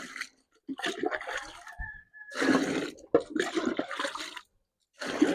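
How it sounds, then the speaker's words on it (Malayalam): Warm water splashes and gurgles into a container of oilcake goat feed in several bursts separated by short pauses, close and fairly loud. "പിണ്ണാക്കിട്ടതിന് ശേഷം വീണ്ടും അതിലേക്ക് വെള്ളം ഒഴിക്കണം"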